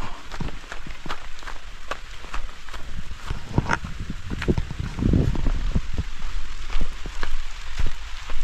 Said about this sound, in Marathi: आला बघा पाऊस आता थोडा